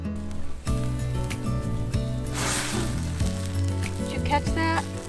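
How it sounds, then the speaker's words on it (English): Sausage cooking over a campfire at a front-country canoe campsite in Voyageurs National Park, a soft steady sizzle and crackle beneath a droning background hum, continuous at moderate level. "Got my sausage, got my fire."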